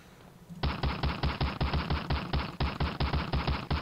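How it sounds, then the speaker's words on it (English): A Thompson submachine gun fires in Medal of Honor Allied Assault, a loud rapid stream of close shots in repeated bursts after a brief quiet start. "Is that a Thompson? Oh, this is the Thompson."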